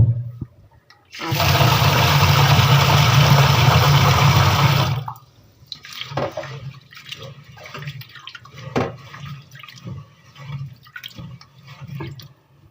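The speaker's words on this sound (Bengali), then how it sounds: "একবার ধুয়ে জলটা ফেলে দেবো" Water pours off soaked rice after a wash, a steady loud rushing splash for several seconds that then stops, leaving scattered drips and small handling sounds.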